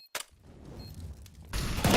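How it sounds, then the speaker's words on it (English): A headshot in Counter-Strike: Global Offensive lands with a sharp single gunshot crack at the start, then a quieter stretch of game ambience before a louder burst of firing and noise close to the end. "there's the headshot"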